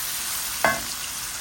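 Garlic paste frying in oil, a continuous close hiss with one sharp metallic clink of a utensil against the pan partway through.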